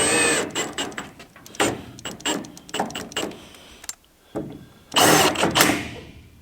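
A cordless drill drives screws into Colorbond steel cladding on an off-grid house, a series of short whirring bursts stopping and starting, with a louder final run near the end.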